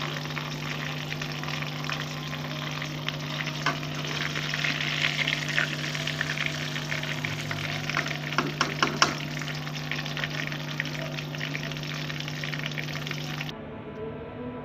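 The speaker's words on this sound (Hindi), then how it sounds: "ये देखिए फ़िश हमारी फ्राई हो चुकी है बड़े अच्छे से" Fish frying in a pan over a medium flame, giving a steady, continuous sizzle with a few sharper pops and crackles near the end, close and unbroken by talk.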